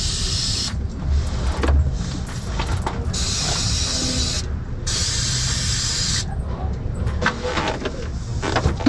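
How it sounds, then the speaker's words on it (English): Brake cleaner spraying onto the oil filter mount of an Acura TLX V6, heard as several loud, close hissing bursts of varying length with brief pauses between them. "we're going to hit it with some brake clean again to get it nice and clean"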